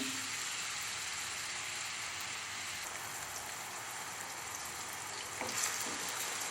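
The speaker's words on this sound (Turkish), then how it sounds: "soğanlarımızı güzelce yağımızda pembeleşinceye kadar kavuralım arkadaşlar" Dense, steady sizzling of onions frying in hot oil, a continuous crackling hiss with occasional louder pops near the end.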